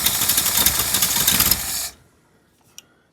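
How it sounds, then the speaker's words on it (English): A 1957 Ford Thunderbird engine runs rough and grumpy with too much choke, a loud uneven chugging close by that stops abruptly partway through, leaving near silence and one small click. "she fired right up. All right, running. A little grumpy. Had too much choke."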